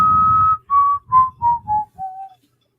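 A person whistles a short descending tune, one held note followed by five brief, clear notes stepping downward, loud and close with breathy accents.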